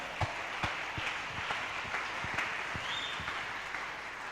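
A church congregation at an evening mega seminar applauds in acclaim of the Lord, a steady dense wash of many hands clapping with a few sharper distinct claps standing out, sustained and fairly even throughout.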